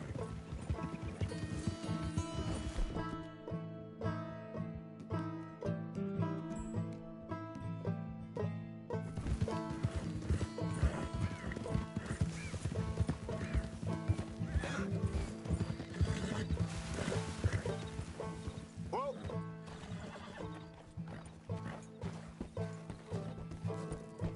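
Horse whinnies and clip-clopping hooves in the Red Dead Redemption 2 video game, continuous and loud, mixed with dense game music and ambience.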